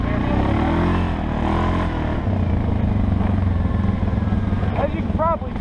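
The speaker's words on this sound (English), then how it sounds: "As you can probably tell, the 4-wheeler is a lot quieter than the bike." A Suzuki KingQuad 750 4x4 ATV engine runs at a steady low rumble with some clatter, fairly quiet, while a person talks over it throughout.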